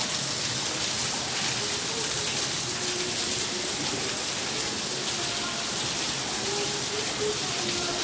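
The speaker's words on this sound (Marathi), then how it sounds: "बघा किती पाऊस आहे।" Heavy monsoon rain pours steadily outside a house in Karjat, a dense, continuous hiss and patter that stays loud and even throughout with no voices.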